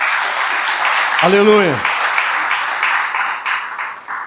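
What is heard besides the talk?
congregation applause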